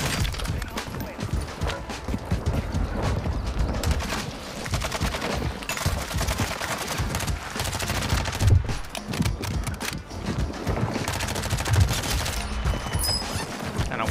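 A gunfight in the video game Warzone 2.0, dense rapid automatic gunfire and overlapping shots filling the whole stretch, loud and relentless with no pauses.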